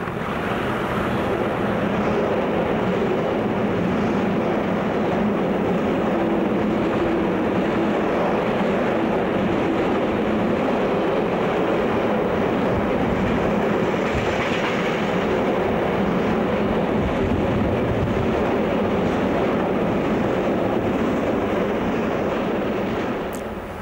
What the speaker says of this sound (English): Moving to Ilford, another freightliner passes.